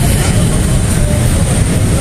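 A dense, rushing rumble of a KRL Jabodetabek commuter train passing close by, loud and continuous with a broad roar throughout.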